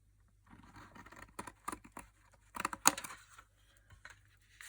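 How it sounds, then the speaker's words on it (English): A series of short, crisp scissor snips and scratchy cuts through stiff cardstock, close by, irregular in rhythm with brief pauses between strokes. "See if I can get my scissors in there good."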